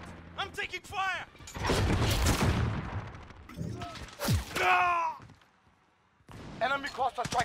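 Video game battle with bursts of loud gunfire and booming impacts between stretches of shouted voices and radio-style chatter, including a short quiet gap before talk resumes.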